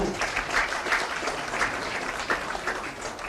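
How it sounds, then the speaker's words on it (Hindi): A crowd applauds at a ceremony appointing medical officers, with fairly loud, uneven clapping that swells and dips as individual claps stand out through the hall. "तालियां आपकी तरफ से जोरदार हो, उनका हौसला और बुलंद करने वाले तालियां जोरदार"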